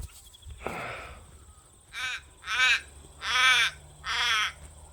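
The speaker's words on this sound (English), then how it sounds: "Listen to that noisy crow." A crow caws four times in a slow, evenly spaced series, each call harsh and fairly close, with a quiet outdoor background between them.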